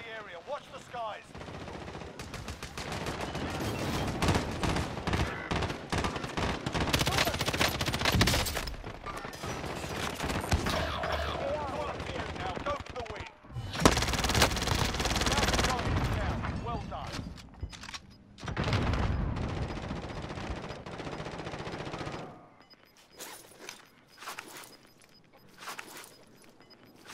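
Rapid hip-fired automatic gunfire from a first-person shooter game crackles in long dense bursts, loud and close, with short pauses between volleys and a quieter tail at the end.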